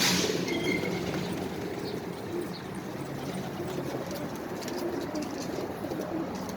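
A steady murmur of many pigeons cooing in a pigeon loft fills the space, with a constant background hum and no speech.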